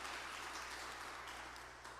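A church congregation applauding, a dense steady wash of many hands clapping together, sustained and fairly distant, with a low hum underneath and no talking.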